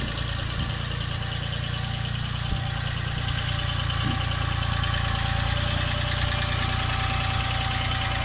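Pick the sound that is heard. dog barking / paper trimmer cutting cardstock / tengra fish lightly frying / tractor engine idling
tractor engine idling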